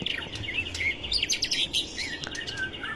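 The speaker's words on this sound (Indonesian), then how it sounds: "Burung murai yang banyak makan jangkrik akan memiliki kicauan yang bervariasi" A white-rumped shama (murai batu) fed plenty of crickets sings a varied, loud, clear run of whistles, trills and sharp chirps, close by and alone against faint hiss.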